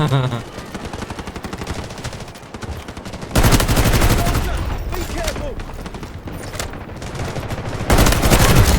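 Rapid full-auto fire from an M14 Marksman Rifle in the Delta Force video game, a fast, even rattle of loud cracks in long sustained bursts, growing heavier partway through, with a voice occasionally under the gunfire.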